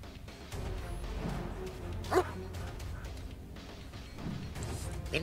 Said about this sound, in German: Hunde.